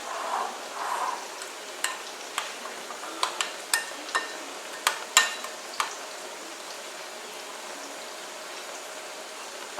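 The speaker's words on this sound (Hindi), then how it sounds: "सारे मसाले आपने दही में ही ऐड कर लेने हैं। अब इसे मैं मिक्स कर लेती हूँ।" A spoon works spices into yogurt, giving scattered light taps and soft wet scraping against the bowl, fairly quiet and irregular.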